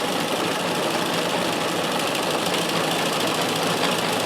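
A vintage sewing machine set to maximum reverse stitch runs steadily, a dense, even mechanical whir and rapid needle chatter close up, alone throughout.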